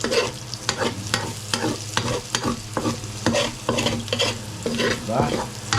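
Potatoes fry in a hot pan with steady sizzling while a utensil stirs and scrapes them in repeated sharp strokes, close and continuous, with no talking.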